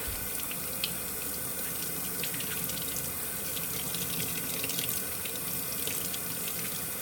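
Tap water runs steadily into a kitchen sink while produce such as broccoli is rinsed, a constant close splashing hiss with small spatters throughout and no voices.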